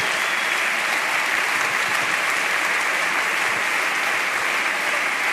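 A theatre crowd at a comedy stage show gives sustained, loud applause, a thick continuous roar of clapping that holds steady throughout without any speech.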